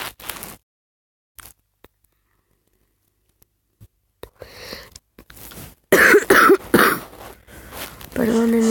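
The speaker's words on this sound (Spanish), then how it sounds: "Perdonen, es que tengo un poco de tos." A person coughs several times in loud, harsh bursts after a mostly quiet stretch during Spanish-language gaming commentary, with speech following the coughs.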